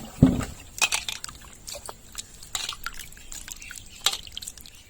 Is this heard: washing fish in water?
yes